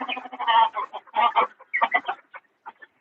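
Fighter and desi chickens at a farm in Shrivardhan cluck and chatter in a steady run of close, overlapping calls, with brief pauses and a few sharper squawks, no voices.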